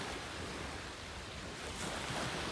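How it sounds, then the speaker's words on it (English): Indian Ocean waves washing on the shore, a steady broadband surf roar with wind buffeting the microphone, faint and continuous with no talk. "So this is Indian Ocean"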